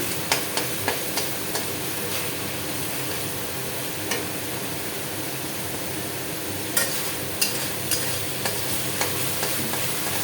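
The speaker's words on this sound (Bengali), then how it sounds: "মশলাটাকে ভালো করে কষিয়ে নেবে।" Spice paste fries and sizzles steadily in a pan, with a constant hiss from the oil and light scraping taps of a spoon stirring it, close up and with no talk.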